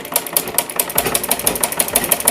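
A sewing machine runs fast and steady, stitching fine seams along a suit neckline, its needle pounding in an even rapid rhythm, close and loud with no talk.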